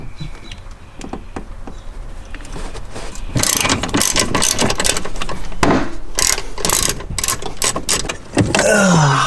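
Ratchet clicking while backing out a T50 Torx seatbelt screw in a BMW M3 interior, a close, rapid run of sharp mechanical clicks that grows busier and louder after the first few seconds, with no talking.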